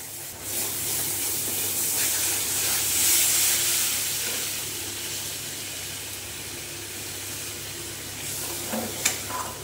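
Water poured onto fried masala in a pan for a masala patol curry hisses and sizzles in a steady, loud burst that gradually settles.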